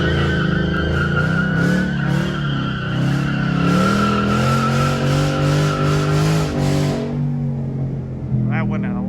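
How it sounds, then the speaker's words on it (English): A Ford Mustang on worn tires does a standing burnout, the engine roaring loudly as the rear tires spin and skid continuously for several seconds, then the noise drops away abruptly near the end. "going to attempt to do a burnout to at least have a little bit of fun on what tread is left on them"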